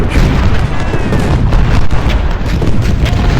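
Civil War cannon artillery in the game Ultimate General: Civil War at the Battle of Fredericksburg: heavy booms and rumbling blasts overlapping into a dense, loud barrage with no pause.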